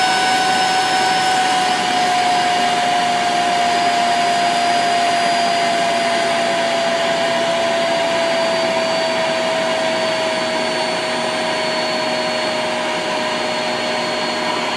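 Vacuum cleaner running at low speed through a BN-LINK plug-in variable fan speed controller: a loud, steady motor drone with a whine whose pitch slowly sinks across the whole stretch, with no voices.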